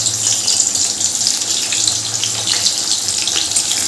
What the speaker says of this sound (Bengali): এই মাছ ভাজার তেলেই আমি দিয়ে দিচ্ছি অর্ধেকটা পেঁয়াজ।